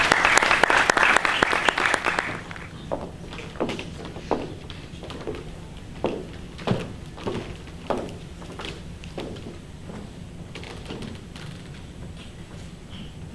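An audience at a Christian literature fair in Kinshasa bursts into a dense round of applause for two seconds, then it thins into scattered single claps and taps over a quiet room.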